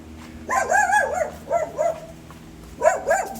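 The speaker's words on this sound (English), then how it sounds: "Little guard dog there." Small guard dog barking at a house near a hidden beach in Puerto Vallarta, Mexico: several short, sharp yapping barks in three bursts, fairly close and clear over a quiet background.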